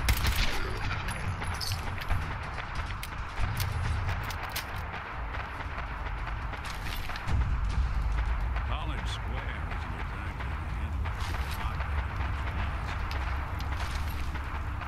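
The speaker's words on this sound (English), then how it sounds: "I hear gunfire." Gunfire in the video game Fallout 4, a continuous bed of rapid shots and bursts running throughout under dense game sound and a talking voice.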